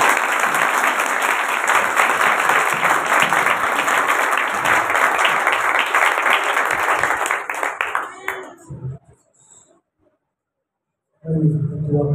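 A church congregation applauds loudly and continuously during a pastor's sermon. The clapping thins out and fades to silence, then a voice begins speaking near the end.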